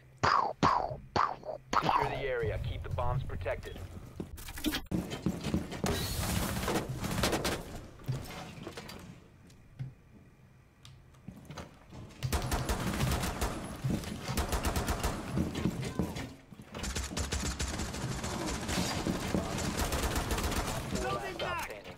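Glaze's rifle in Rainbow Six Siege firing in several sustained bursts of rapid, loud shots separated by short pauses, with a voice speaking briefly at the start.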